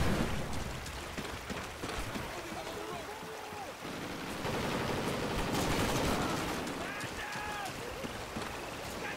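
Gunfire in the video game Ebola, bursts of rapid shots and crackling fusillade spread over a steady noisy background, moderately loud and continuous, with a voice talking at times.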